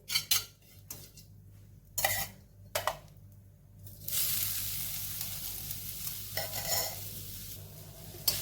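Poppy seeds being stirred in a pan, with grated fresh coconut added to roast alongside, while making filling for steamed sweet lamps: sharp spoon scrapes and clinks at first, then a steady continuous sizzle with intermittent stirring bursts, close and clear.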